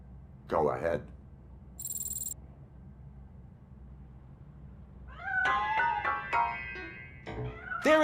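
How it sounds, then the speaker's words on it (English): A cat meows a few times in the video game RoboCop: Rogue City, over a soft insect-like background hum, with scattered clicks and short game-style effects in between. "That cat must be hiding inside."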